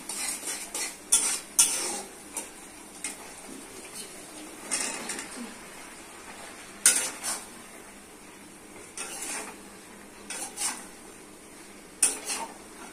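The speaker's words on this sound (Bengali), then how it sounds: "মশলার সঙ্গে ভালো করে মিশিয়ে দিতে হবে।" Okra, potato and tomato with coriander powder, spices and a splash of water being stirred in a pan, with repeated scraping and clinking strokes of a utensil over a faint background sizzle, close up and without talk.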